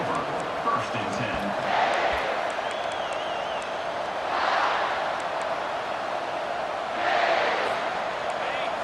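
Stadium crowd noise in an LSU college football video game, a steady roar that swells into louder cheering surges roughly every three seconds, with a commentator's voice running over it.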